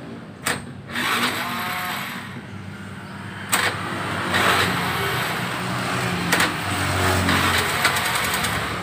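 An older Honda Vario motor scooter engine cranks and catches, then settles into a steady running rumble with a few sharp clicks over the top.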